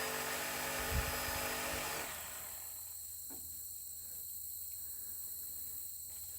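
A reciprocating saw whines loudly for about two seconds, then stops, leaving a quiet background with faint insect-like buzzing.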